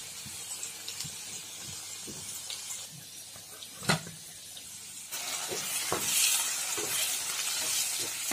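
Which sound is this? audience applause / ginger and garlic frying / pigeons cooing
ginger and garlic frying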